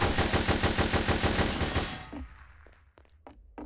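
Rapid automatic gunshots in The Hidden: Source, a fast steady burst of evenly spaced loud shots lasting about two seconds, then a few scattered fainter impacts afterward, with no talking.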